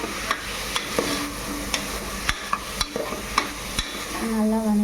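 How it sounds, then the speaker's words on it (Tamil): Boiled chickpeas and potato being sautéed in a pan: a spatula scrapes and knocks against the pan in scattered sharp strokes over a steady, moderate sizzle, heard up close with no talk. "அப்புறம் வேக வச்சிங்களா சுண்டல், இது உருளைக்கிழங்கு, அதை போட்டுடலாம். அப்படியே போட்டு நல்லா வதக்கிட்டு"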